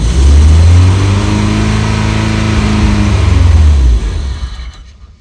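A Volkswagen Scirocco's engine revs hard under throttle, loud and close, holding a steady high pitch for several seconds before dropping off and settling toward idle.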